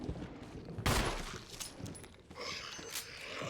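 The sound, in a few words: gunshots at a zombie in the video game Resident Evil 1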